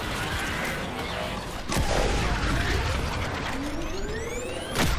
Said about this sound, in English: Let's fire up the K-drive.